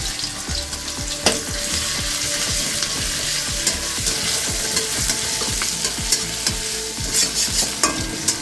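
Crushed ginger frying in hot oil, a continuous close sizzle with frequent rhythmic scraping and stirring strokes of a spatula against the pan.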